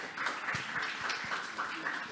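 Audience applause at an Indonesian science talk event, a steady patter of many hands clapping at moderate distance, continuous and even for a couple of seconds.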